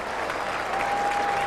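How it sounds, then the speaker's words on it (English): Football fans in a stadium applaud and cheer in a dense, steady roar of clapping, a sustained whistle-like tone rising over the second half. "the fans, many of them still remaining, especially the Mountaineer fans, stand and cheer"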